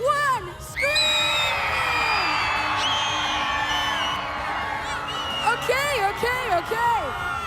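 A large stadium crowd at a BMX racing world championship event screams, whoops and cheers loudly in one sustained roar, with individual yells rising and falling toward the end.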